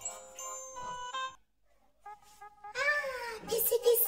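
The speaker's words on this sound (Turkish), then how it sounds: "Kedi sesi. Evet, kedi varmış burada." A cat meows several times in short tonal cries with gaps between them, ending in a louder, rougher yowl.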